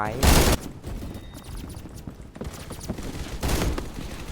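MP5 gunfire in a video game, with rapid bursts of automatic shots at the start and near the end and speech between them.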